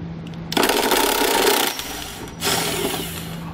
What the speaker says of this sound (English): I'm going to take an 18mm socket and remove that bolt completely.